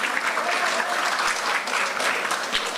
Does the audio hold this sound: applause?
yes